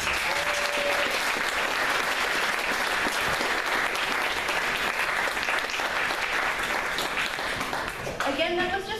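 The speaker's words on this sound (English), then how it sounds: "Let's give them another round of applause." A school parent-night audience gives sustained, loud applause for an advanced strings group, steady clapping throughout with a voice beginning to speak at the very end.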